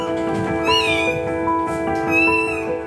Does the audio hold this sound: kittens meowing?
yes